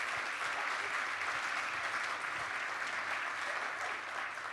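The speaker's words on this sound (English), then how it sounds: "will you please stand so we can give you a round of applause and thank you" A nonprofit network meeting audience applauds a standing sponsor, producing a dense, steady wash of clapping that holds at an even level the whole time.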